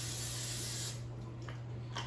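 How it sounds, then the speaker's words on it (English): Non-stick cooking spray hisses out of its can onto a frying pan meant for an air fryer in one steady, close burst of about a second, then stops, leaving only quiet room tone and a low hum. "So first I'm going to spray this frying pan with a non-stick cooking spray."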